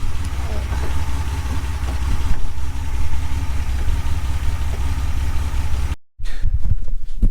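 A car engine idles steadily nearby after its idle speed is raised with a flathead screwdriver, a low continuous rumble with a brief dropout near the end.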